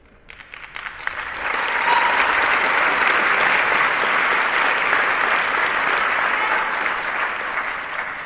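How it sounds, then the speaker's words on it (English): Audience clapping at a high school commencement ceremony as the math team stands, starting with a few scattered claps and swelling into a full, steady round of applause that carries on evenly to the end. "I like how everybody claps before they know what I'm going to say about this team"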